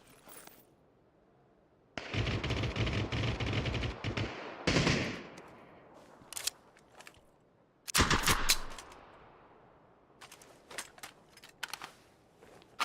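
Bursts of M16 rifle fire in the battle royale game PUBG, with a long loud automatic burst, a second burst a few seconds later, and scattered single shots and shorter volleys between quieter gaps.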